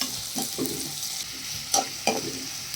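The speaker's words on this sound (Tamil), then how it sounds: "வெங்காயம் வந்து நல்லா பெரிய வெங்காயம் கட் பண்ணி வச்சுருக்கேன், அதை போட்டுக்கலாம். நல்லா வதக்கலாம்." Chopped large onions sautéed and stirred in a pan, a steady close sizzle broken by a few sharp scraping clatters of the spoon against the pan, with no talking.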